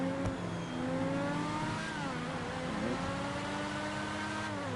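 A McLaren F1-based GP1 car in GTA Online revs its engine, a steady droning whine that climbs and dips in pitch over several seconds, moderately loud with no voices over it.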